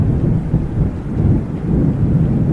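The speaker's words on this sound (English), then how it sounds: "Thunder's loud." Loud, steady rumbling thunder rolls continuously in a video game storm scene, deep and heavy with a faint rain-like hiss layered over it, no voices present.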